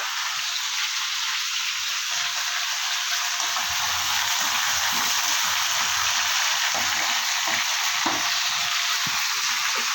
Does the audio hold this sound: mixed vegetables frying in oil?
yes